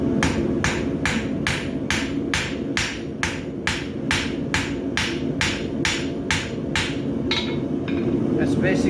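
A farrier hammers a horseshoe branch to scarf it for forge welding, striking metal on an anvil in a fast, even series of ringing blows, about two per second, loud and close.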